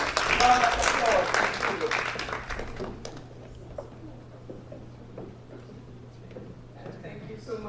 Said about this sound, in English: A lustily round of applause.